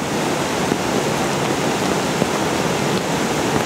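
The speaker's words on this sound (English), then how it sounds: "What a spectacular waterfall." A waterfall roars in a steady, dense rush of falling water, loud and continuous throughout with no voices.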